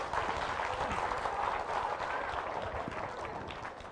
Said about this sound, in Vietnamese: Chúng ta dành một tràng pháo tay cảm ơn thầy đúng không